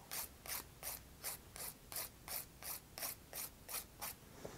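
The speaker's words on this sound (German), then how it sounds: "Hier nehme ich mir die Feile wieder so und dann feile ich einfach nach unten herunter." A nail file worked down a gel or acrylic fingernail gives steady, rhythmic rasping strokes, about eleven even scrapes at a brisk pace, close up with no talking.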